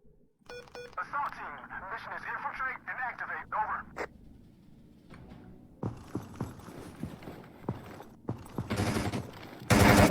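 Bursts of rapid gunfire ring out in a video game firefight during an esports match, sharp shots scattered over the span and clustering loudly near the end, with a commentator talking over much of it.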